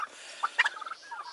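Turkeys let out to forage on pasture give a short burst of gobbling, a few quick warbling calls rising and tumbling close by and fairly faint against a quiet background.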